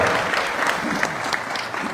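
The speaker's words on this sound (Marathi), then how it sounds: "सर्वांनी त्यांच्यासाठी एकदा जोडलेला टाळ्या" An audience at a Maratha reservation protest rally bursts into sustained applause, dense continuous clapping from a large crowd lasting the whole moment.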